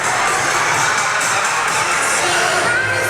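An indoor arena crowd cheers at a professional indoor soccer game between the Milwaukee Wave and the Kansas City Comets, a dense, loud, continuous roar of voices throughout.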